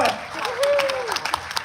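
Applause for the band at a veterans tribute aboard the cruise ship Odyssey of the Seas, with scattered claps and a brief tonal sound near the start, fairly close but modest in volume.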